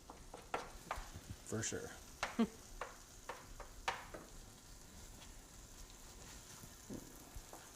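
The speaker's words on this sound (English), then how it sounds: "just as I'm browning it, just to flavor the meat a little bit before" Ground turkey browning in a pan for green chili gives a faint, steady sizzle, broken by soft scraping and tapping of a utensil as the meat is stirred. A voice speaks briefly over it.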